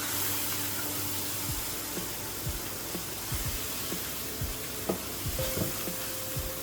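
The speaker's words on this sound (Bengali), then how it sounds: "এখন আমি এটাকে একটু ভালো করে কষিয়ে নিই।" Tangra fish curry with eggplant and mustard paste sizzles steadily in a pan, with scattered scraping stir strokes breaking through a constant close frying hiss.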